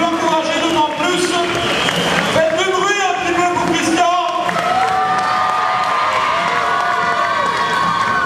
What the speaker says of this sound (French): Allez, on l'applaudit encore une fois.